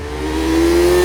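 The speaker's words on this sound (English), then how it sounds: "this amazing engine which loves to spool up, is an utter joy to work with" A 2026 Kawasaki Z900 motorcycle engine spools up, its steady mechanical tone climbing and growing louder over about a second, close and alone with no talk.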